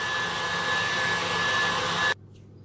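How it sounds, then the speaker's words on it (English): An electric whisk whips cream in a bowl with a steady, close, high whirring hum that cuts off abruptly near the end, leaving near silence. "So that's the cream whipped up."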